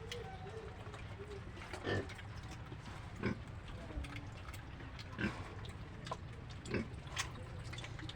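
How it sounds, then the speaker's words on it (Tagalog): Small domestic pigs grunt in short, scattered bursts every second or so, close by, over a steady background hiss of rain. "Yan yung maliit na alaga naming baboy."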